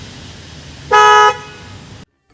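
Bosch symphony horn fitted to a Maruti Wagon R blares once in a single loud, steady musical blast lasting about half a second, standing out over a quiet outdoor background before cutting off abruptly.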